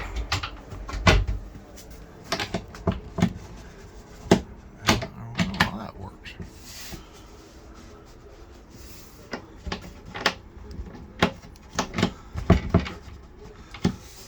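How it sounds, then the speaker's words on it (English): A bathroom door in a wet-bath RV at an RV show is worked open, with clunks, rattles and knocks of a tight door and latch through scattered indoor noise, while people talk faintly nearby. "See here how you open this other door."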